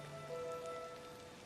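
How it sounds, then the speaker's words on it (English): Rain falls steadily in the video game Disney Dreamlight Valley, a soft continuous patter on surfaces with faint tonal game music layered beneath. "This rain is not good for my flame breath."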